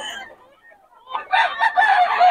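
A gamecock stag at a Bocaue game-fowl market crows loudly and close, the call swelling after a brief quieter gap, with faint clucking just before.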